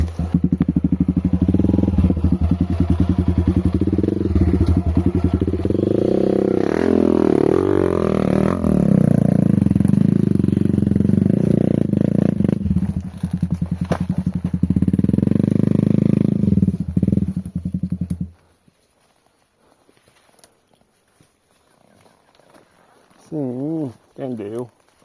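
Off-road motorcycles push through a dense, overgrown dirt trail, engines roaring and revving loudly and close for most of the stretch before cutting off abruptly, leaving faint rustling and a brief distant engine whine.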